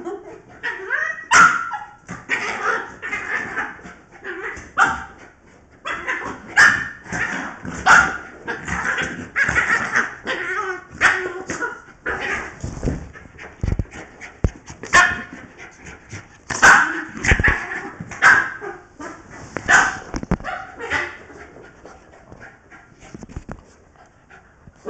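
A dog barks in short yips and whimpers excitedly, with panting between, close and lively in bursts across the whole stretch while a person talks to it at times.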